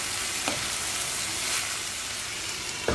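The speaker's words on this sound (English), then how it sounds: "Give it a quick stir." Long beans sautéed in soy sauce and vinegar sizzle steadily in a pan, with a few scraping stirs near the start and a louder clatter at the very end.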